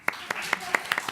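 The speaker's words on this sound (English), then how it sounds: "You can clap, go ahead." A handful of scattered claps from an audience at a city council meeting, brief and sparse, about eight sharp hand claps in just over a second at moderate distance.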